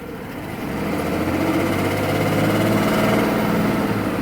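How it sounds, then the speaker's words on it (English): A Mercedes-Benz S600 V12 Big Body saloon engine running at a steady idle after starting, a smooth continuous hum heard close and alone, with no throttle blips. "Watch, I'll start it up again to where you see I'm not having to throttle it. Fires right up. Idles."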